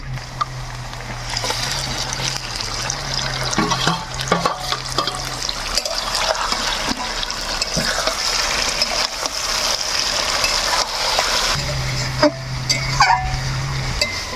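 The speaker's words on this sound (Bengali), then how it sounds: "আমার কিন্তু পেঁয়াজগুলো ভাজা হয়ে গেলে আমরা এখন দিয়ে দিব মেরিনেট করা মাটন" Marinated mutton sizzling in hot oil with fried chopped onions, a steady broadband frying hiss with occasional stirring scrapes and a low hum near and throughout, no voices.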